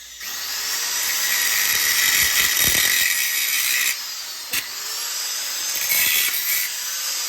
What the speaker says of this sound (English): Wonder if we just angle grind this off now, because there's only two left.